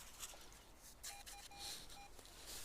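A metal detector gives a target signal reading 60 while detecting outdoors: a few short, faint beeps repeat in a quick, uneven rhythm over background hiss.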